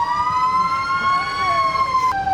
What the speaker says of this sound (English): Might want to give a little horn or siren, something for these kids.